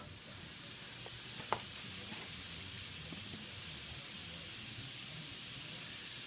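Lean ground beef, 73% lean, sizzling in a smoking hot pan: a steady broadband hiss held for the whole stretch, with a few faint clicks and a brief sharp tap near the start.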